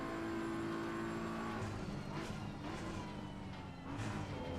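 A BMW M4 GT3 race car in the Assetto Corsa Competizione racing game, its engine droning steadily and loudly throughout with shifting pitch as it drives, no voices present.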